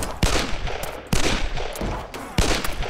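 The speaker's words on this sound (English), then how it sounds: "Please fire the machine gun." Machine gun bursts in WW2: Bunker Simulator, three loud rattling volleys starting at roughly one-second intervals, each with a sharp attack and a short decaying tail, close and with no voices.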